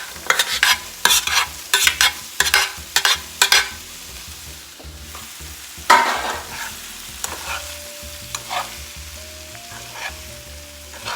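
Taco-seasoned meatballs sizzle in a pan, with a run of sharp scraping clatters as they are stirred and turned, then a quieter stretch of soft frying crackle and occasional clinks.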